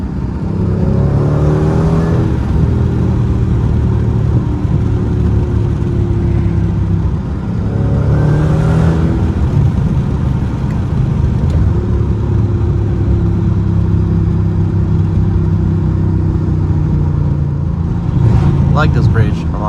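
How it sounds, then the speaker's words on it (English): A Mercedes W211 E55 AMG V8 engine revs and drones through gear changes, with a few crackling pops from the exhaust and someone talking over it. "I'm hearing those pops in the exhaust."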